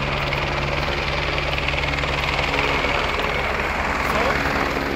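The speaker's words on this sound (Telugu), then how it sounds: "అది హెలికాప్టర్ జర్నీ ఉంది మనకి." A helicopter carries pilgrims on the Kedarnath journey through the Himalayas, its engine and rotor making a loud, steady drone that holds without a break for the whole stretch.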